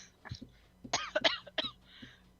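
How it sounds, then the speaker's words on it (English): Several short, close coughs mixed with throat clearing, a quick burst of harsh hacking sounds from one person indoors. "Oh, you made me cough."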